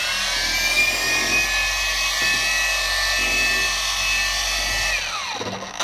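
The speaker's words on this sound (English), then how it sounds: "I just wanted to show you the polisher in action." A ShineMate EB351 cordless dual action polisher runs steadily with a high whine and a buzzing hum, close and continuous, then winds down near the end as the motor slows.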